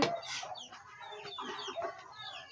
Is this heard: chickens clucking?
yes